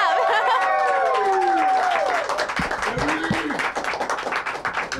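A large live-show audience bursts into applause that swells and then continues as a steady wash of clapping, with chatter and a few chuckles mixed in beneath.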